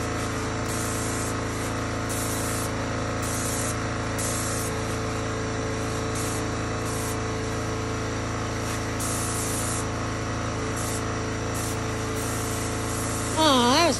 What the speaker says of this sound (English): spraying it on and then he back rolls it to push it in between all those little spots it needs to get into